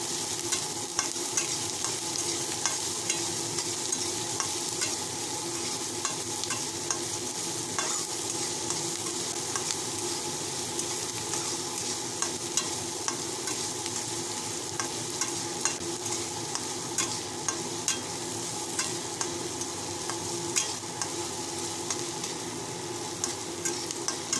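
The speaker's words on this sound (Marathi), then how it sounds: "आता चांगलं परतून घ्यायचं आहे मस्तपैकी" Okra (bhindi) sautés in a pan, a continuous soft frying sizzle punctuated by frequent light clicks and scrapes of a spatula stirring, steady and close throughout with no speech.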